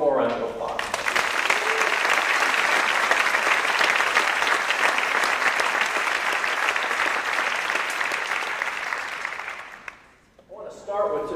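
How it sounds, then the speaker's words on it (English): An audience breaks into a full round of applause, dense steady clapping that holds for about nine seconds and then fades out, followed by a voice starting to speak. "One more round of applause."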